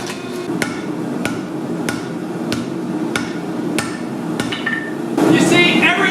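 Regular hammer blows ring out on hot Damascus steel, about ten evenly spaced strikes with sharp metallic clangs over a steady background roar.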